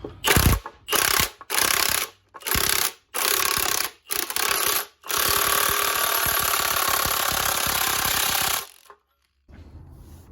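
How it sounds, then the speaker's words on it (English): An impact gun on a ball joint press cup during ball joint replacement on a 1968 Chevrolet C10, loud repeated hammering bursts in short blasts, then one long sustained run before stopping, close up. "So I'm just gonna hit it with the impact gun"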